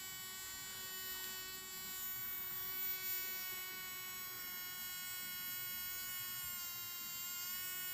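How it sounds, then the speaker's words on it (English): A farm water pump runs with a steady, faint electric hum and buzz, unbroken and even throughout. "See, pump has turned on, you can see pump is running"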